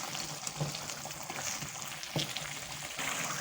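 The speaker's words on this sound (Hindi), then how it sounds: "हमारा टमाटर और उसका लहसुन अदरक का पेस्ट भी भुनना शुरू हो गया है" Tomato with garlic-ginger paste frying in oil for chicken karahi, a steady close sizzle throughout with a few louder crackles and stirring scrapes, no talking.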